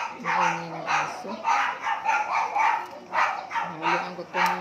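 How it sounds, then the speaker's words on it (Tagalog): A dog barks in repeated bursts with short yips, loud and close, while a person talks over it in an outdoor home setting. "Maingay ng aso."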